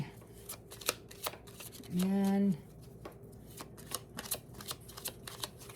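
A deck of tarot cards is shuffled by hand in a quiet room, giving a run of quick, irregular papery clicks and flicks up close, interrupted once by a short voiced sound.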